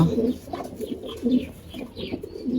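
Repeated rolling coos from a tournament racing pigeon, several bursts in quick succession close to the listener, with faint chirps and light rustling between the calls.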